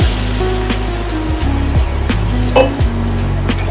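Roasted semolina for kesari bath hisses and sputters as water hits it in the pan, with repeated metal scraping and clinks of stirring; no one speaks.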